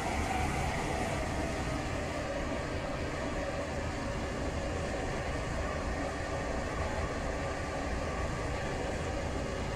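A train runs steadily in the Roblox game Stepford County Railway on a Stepford Connect service, giving a continuous quiet rumble and hiss with no speech.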